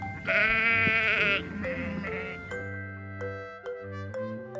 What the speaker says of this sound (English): S for sheep.